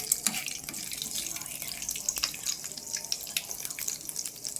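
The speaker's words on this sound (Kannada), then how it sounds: "ಫಸ್ಟ್ ಸಾಸಿವೆ ಜೀರಿಗೆ ಹಾಕೋಬೇಕು ಫ್ರೆಂಡ್ಸ್. ಹಿಂಗೆ ಚಟಪಟ ಅಂತ ಸಿಡಿಬೇಕು" Mustard and cumin seeds crackle and pop in hot oil, a dense run of quick sharp sputters that lasts the whole stretch with no voice over it.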